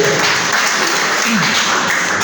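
Loud, continuous clapping from a church congregation giving praise fills the space evenly, with a low voice briefly rising beneath the applause.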